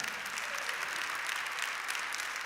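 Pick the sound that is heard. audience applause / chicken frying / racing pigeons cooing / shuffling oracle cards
audience applause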